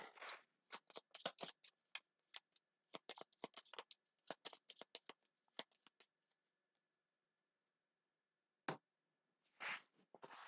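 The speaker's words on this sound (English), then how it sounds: "And I can just shuffle my deck here." A deck of game cards for the board game Gloomhaven: Jaws of the Lion is shuffled in a quick series of crisp riffling snaps. These come in bursts over several seconds, then a pause, then a couple of isolated flicks, all close and quiet.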